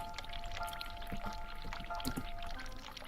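Water running in The Cat Lady video game, a quiet steady pouring with faint drips and splashes over low background hum.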